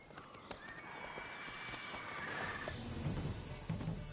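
Horse Roach in The Witcher game, hooves clip-clopping at a steady pace with a whinny-like tonal call, moderately loud and close, with low rumbling impacts building toward the end.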